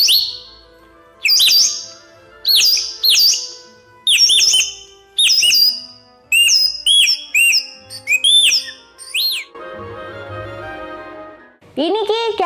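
A wind instrument mimics a young koel's calls with rapid, squeaky chirps and whistles in repeated bursts, followed by a lower, rougher passage.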